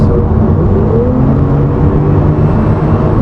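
A Porsche 991.2 Carrera 4S Cabriolet with PDK gearbox accelerates hard, its engine note a loud, steady roar heard from inside the car, with rising tones as it pulls.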